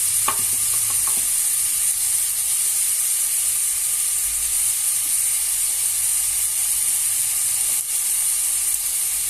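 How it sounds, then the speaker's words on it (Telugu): Onions frying lightly in a pan for a goru chikkudu (cluster bean) curry, a steady close sizzle and hiss running the whole time with a few faint stirring clicks near the start. "ఉల్లిపాయలు లైట్గా వేగాలండి."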